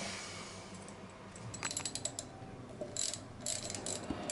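Faint, scattered clicking of a wrench tightening the thermostat housing bolts on a Kubota V2203 diesel boat engine, with short bursts of ratcheting over a quiet background.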